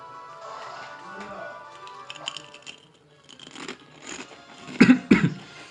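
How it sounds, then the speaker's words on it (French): A person coughs, with scattered soft rustles and clicks before two loud, close, harsh bursts near the end. "Je tousse un peu, je sais."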